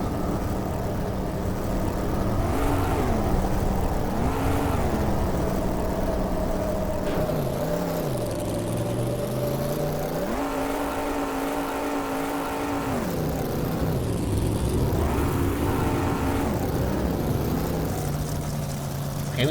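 A car engine in the post-apocalyptic game Pudgeworld drones steadily, its pitch rising and falling in several revving swells and dips across roughly twenty seconds, loud and continuous with a background wash and no voices.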